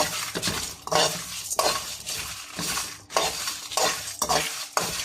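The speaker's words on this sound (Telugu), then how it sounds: "దీన్ని కొంచెం దోరగా వేయించుకోండి" Ingredients for chicken kabsa fry on high flame, with a constant sizzle broken by rhythmic stirring strokes that scrape and clink against the pan several times, close and fairly loud with no talk.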